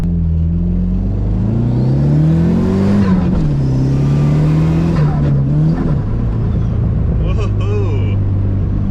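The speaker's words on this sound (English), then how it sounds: "that exhaust leak, it sounds like there's a hole in the manifold" A Dodge engine with a leaking, holed exhaust manifold drones loudly from inside the car, its pitch climbing and falling as it revs through gears, with a rough, tractor-like rasp under steady road noise.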